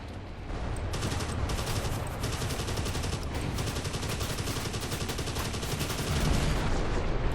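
Rapid machine gun fire rattles continuously in the World War II air combat game Dogfight 1942, steady bursts of crackling shots that swell slightly louder near the end, with no speech over them.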